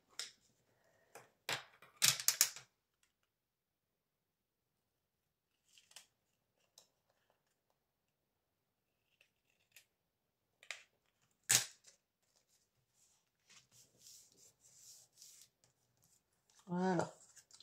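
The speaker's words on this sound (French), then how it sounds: "je vais découper ça tout de suite" Scissors cut through paper in short, crisp snips scattered across long quiet gaps, close and fairly loud in bursts, with a voice speaking near the end.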